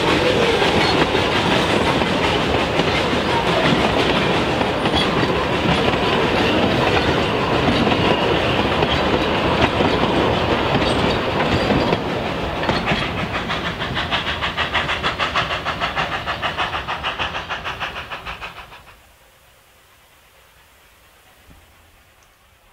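The Puffing Billy steam train rumbles and clatters steadily along the rails for a long stretch, rolling downhill toward Belgrave, loud and close, then fades off quickly into quiet outdoor ambience.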